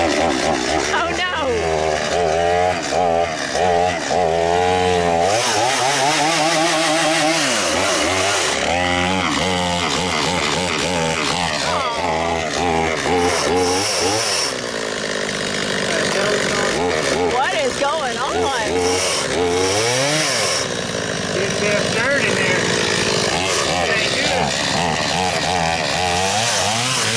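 A chainsaw runs loudly and continuously close by, its pitch rising and falling as it revs up and idles back, with people talking over parts of it.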